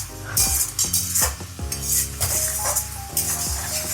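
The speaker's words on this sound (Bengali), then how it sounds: "আর খুন্তি সবসময় এইভাবে ঘেটে যেতে হবে এটাকে।" A spatula scrapes and stirs lote fish bhorta in a pan, giving a gentle sizzle under repeated rhythmic scraping strokes and clinks of metal against the pan, close and moderately loud, with no talking.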